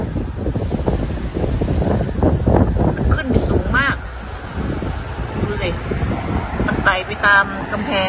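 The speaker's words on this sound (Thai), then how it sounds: "ลมแรงมากเลยพี่น้องจ้ะ" Strong wind gusting across a garden and buffeting the microphone in loud, rumbling bursts, while someone talks over it and faint rustling and birdlike chirps come through near the end.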